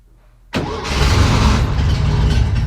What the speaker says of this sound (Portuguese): De novo, segura só no motor de arranque.